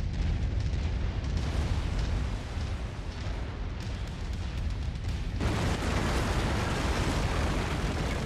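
A target mech is destroyed in MechWarrior 5, with loud, sustained explosion noise full of crackling bursts and booms that swells sharply partway through.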